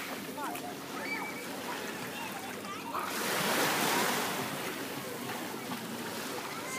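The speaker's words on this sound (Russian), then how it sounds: "Мы находимся на пляже Гуровские камни или Артековский гостевой пляж." Gentle waves washing onto the Gurzuf pebble beach in Crimea on a summer evening, a steady soft surf hiss that swells midway, with faint distant splashing and motorboat activity out on the water.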